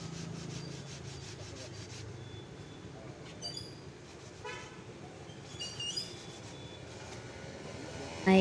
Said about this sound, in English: Now he is filing it smooth